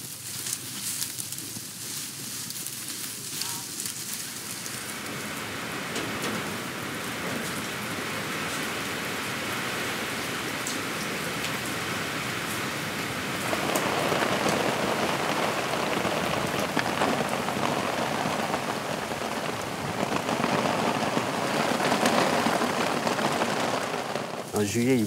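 Rain falling on a farm in Guiè, Burkina Faso: a steady broadband hiss of drops on surfaces that swells louder partway through and keeps going for the whole stretch.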